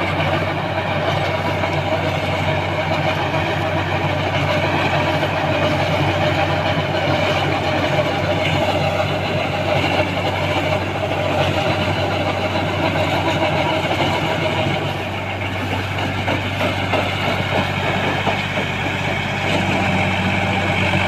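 A tractor running a super seeder through paddy stubble, its engine a loud, continuous, steady drone throughout with no breaks.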